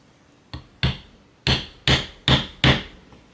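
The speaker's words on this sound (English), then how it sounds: "We punch it through with a 1 millimeter punch." A hammer strikes a 1 mm punch through leather while making a simple leather sheath: six sharp, close blows, the first faint and the rest louder, spaced irregularly about half a second apart.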